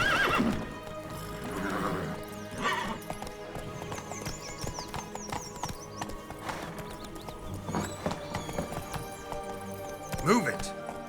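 Roach the horse gallops in The Witcher 3, quick clip-clop hoofbeats running steadily with bursts of neighing, under intermittent game voices and background music.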